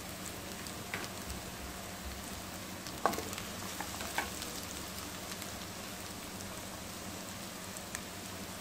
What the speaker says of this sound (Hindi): अब हमने जो मटन को काटा था वो डाल देंगे